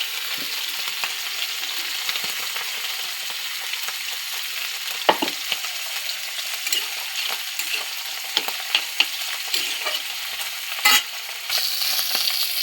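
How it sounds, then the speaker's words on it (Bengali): Fish pieces fry in a pan with a steady, close crackling sizzle, punctuated by occasional spatters and clinks of a spatula against the pan. "এখানে তো মাছ ভাজা হচ্ছে"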